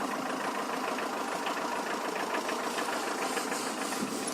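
A Tata truck engine runs steadily at a low, knocking idle, close and continuous, during a driving lesson with no one speaking.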